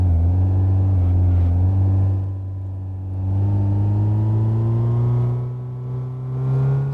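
A worn, tired car engine in the game My Garage straining as it pulls away in second gear, a steady low droning hum that rises and dips in waves with no talking.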